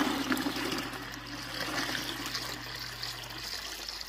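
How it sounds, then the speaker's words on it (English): Water pours steadily into a FOHERE IM1102B countertop ice maker's reservoir, a close, continuous splashing trickle over a low hum, ending in a brief tail. "you just want to open it up and start filling the water to the max line"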